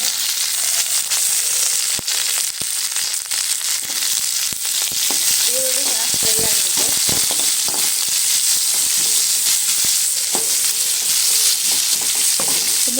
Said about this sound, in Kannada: ಮೆಣಸಿನ್ಕಾಯಿ ಅದು ಫ್ರೈ ಆಗಿದೆ ಈರುಳ್ಳಿ ಹಾಕೋಣ ಈರುಳ್ಳಿ ಹಾಕೋತಾರೆ